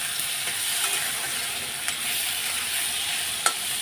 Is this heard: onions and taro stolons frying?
yes